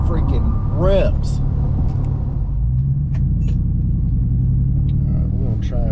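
A 700 HP Roush Nitemare F150 pickup accelerating hard, a loud, deep continuous engine roar with a rising rev sweep, with someone talking over it.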